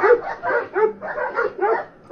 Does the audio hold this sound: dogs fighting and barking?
yes